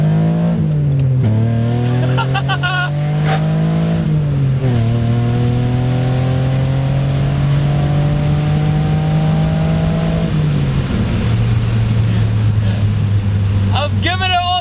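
A Ford SVT Contour engine revs hard at full throttle, a loud, close, steady drone rising in pitch through long pulls with brief dips at each gear change, held strongly throughout.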